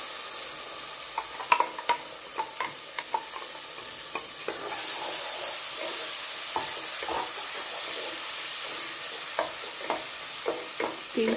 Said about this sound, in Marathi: तेल कुटूपर्यंत भाजून घेऊया.